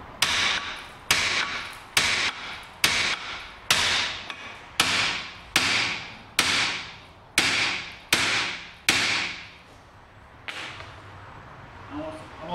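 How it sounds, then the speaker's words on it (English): A hammer strikes seized brake caliper bolts in a garage, landing about a dozen sharp metallic blows at a steady one-per-second rhythm, each ringing briefly before the next, followed by quieter handling noise. "I'm just going to hit them with the hammer to try and shock them"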